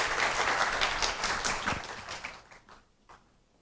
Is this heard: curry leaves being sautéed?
no